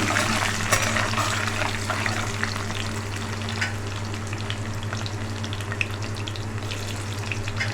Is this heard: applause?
no